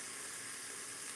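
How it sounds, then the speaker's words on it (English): Tomato soup ingredients sizzle in a pot, an even, bright hiss held steadily throughout, fairly quiet and close, with no voices over it. "That's sizzling."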